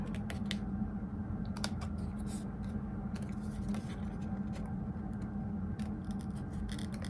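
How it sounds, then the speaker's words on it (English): Small Cricut scissors snip around paper for fussy cutting, a run of quick, crisp, irregular clicks and cuts close and quiet over low room hiss. "So I have my little Cricut scissors here, and I'm just going to go in and snip around."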